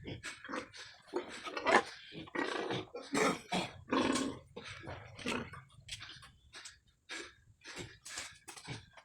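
Wild boars (baboy damo) grunt and snort close by in a series of short, rough bursts with brief pauses between them, loud and irregular, with no talking.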